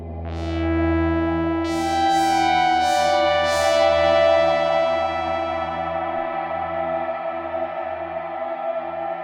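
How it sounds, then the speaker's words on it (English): Synth tones swell through the Irid shimmer reverb plugin into a lush, shimmering reverb wash, with bright echoing tails ringing out and slowly fading over several seconds. "This shimmer reverb has a slick interface, it's easy to use, and it sounds really great."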